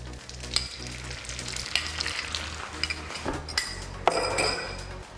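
Eggs go into a pan of bubbling melted butter and sizzle loudly up close, with a low hum underneath and scattered clinks and scrapes of a utensil against the pan; no one speaks.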